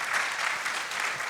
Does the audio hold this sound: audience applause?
yes